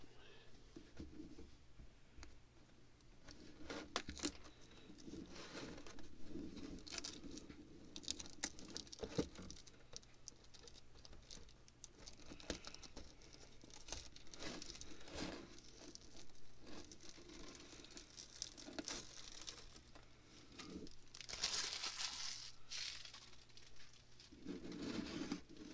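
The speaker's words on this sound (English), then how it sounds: "let's peel it" Protective film being peeled while working on a Slash 2WD RC car build, faint intermittent crinkling and pattering over a low hum, quiet and close throughout.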